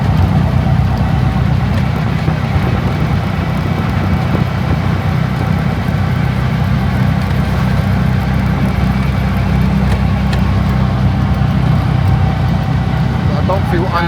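A three-wheeler auto rickshaw engine drones steadily while driving at night on a rural road in Bangladesh, a loud continuous low rumble with no breaks, and voices may sit under the noise.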